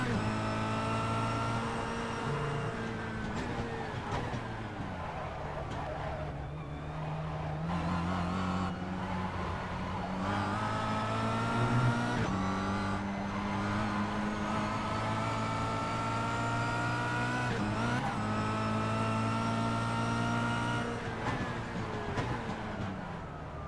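A Kia Cup race car engine at Zolder circuit, loud and close from onboard, its note falling on a slow drive out of a chicane and then rising through repeated gear changes as it accelerates.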